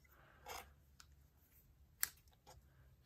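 Scissors snip thread beside a bow on a vellum card-making project, a few quiet close clicks with one sharper snip amid soft background hiss.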